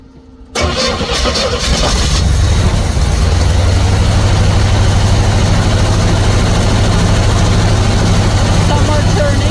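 Pink Jeep engine cranking and catching after reassembly, then settling into a loud, steady close idle that runs without pause, with people talking over it.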